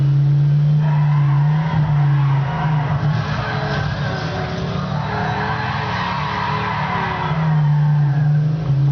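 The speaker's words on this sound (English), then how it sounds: "I like the drifting into turns." A car drifting through turns in the racing video game Midnight Club LA, giving a loud, sustained tire squeal over a steady engine drone that continues for several seconds without a break.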